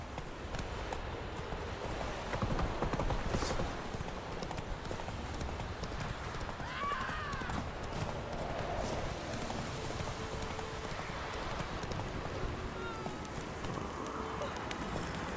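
Horse galloping in the video game The Witcher 3: Wild Hunt: rhythmic clip-clop hoofbeats run steadily throughout over a dense background wash, with a faint whinny partway through.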